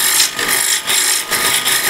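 A bowl gouge's side wing shears wood on a lathe, a loud, close, continuous rasping with rhythmic surges as the tool plows off material, alone without talk.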